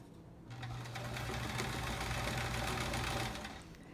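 A sewing machine stitches a quilt block, a close, steady, rapid mechanical whir that runs continuously for a few seconds before slowing at the end.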